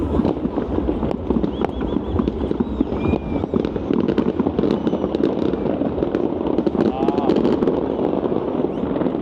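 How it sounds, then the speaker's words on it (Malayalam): New Year fireworks and firecrackers burst all around a city at night in Melbourne, a dense, continuous barrage of sharp cracks and booms from near and far, with people talking and wind buffeting the microphone. "ശരിക്കും ചുറ്റും ഇത്രയും പടക്കം പൊട്ടുന്ന കാണാൻ ഭയങ്കര രസം."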